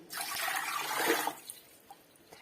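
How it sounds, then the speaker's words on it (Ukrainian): Two liters of water are poured from a one-liter jar into a cooking pot, making a brief, loud splashing gush that stops abruptly, followed by a few faint drips and clinks. "Наливаю сюди, відміряю літровою банкою 2 літри води."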